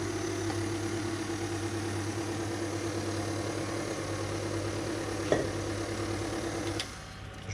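Electric mixer whisks egg yolks and sugar for a ladyfinger sponge, a steady motor whir holding an even level throughout, one brief clatter near the end before the speed shifts.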